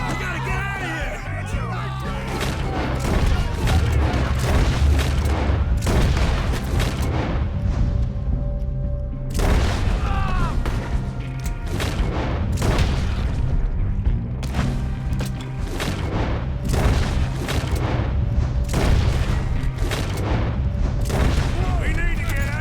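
Gunfire in Red Dead Redemption 2 during a shootout: loud, dense booming shots and volleys that continue almost without a break, mixed with game music and shouting voices.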